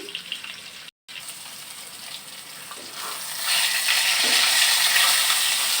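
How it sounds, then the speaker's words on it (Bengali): Fish frying in a pan, a soft sizzle that swells into a broader, louder hiss partway through, with a brief dropout near the start and no talking. "তো মাছটা ভেজে নিচ্ছি।"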